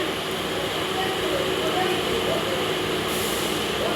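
Steady rumble and rattle fill a moving passenger train carriage as a family rides along, the rolling noise continuous and close, with voices talking over it throughout.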